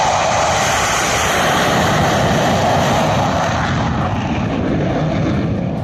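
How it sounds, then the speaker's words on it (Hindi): A Rafale fighter jet roars low over the Purvanchal Expressway during a touch-and-go, a loud, sustained engine blast close by that slowly shifts in tone as it passes. "राफेल लड़ाकू जो आसमान को चीरते हुए आया है और एक्सप्रेसवे को टच करते हुए निकल गया"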